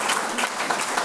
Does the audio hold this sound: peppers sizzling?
no